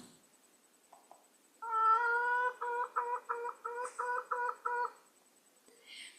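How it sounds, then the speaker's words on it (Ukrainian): A hen clucks in a quick rhythmic run of about eight short, nasal calls after one longer note, close and fairly clear. "А як подає голос курка?"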